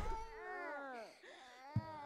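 A cat meowing in the Silent Hill 4 video game, drawn-out wavering cries that rise and fall, close and fairly quiet, ending with a brief thump.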